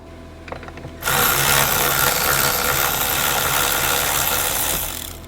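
Seat bolts on an Audi Q7 are undone with a power tool, a loud, steady close-up whirring rattle that starts abruptly after a second of quiet and runs unbroken for about four seconds before tapering off.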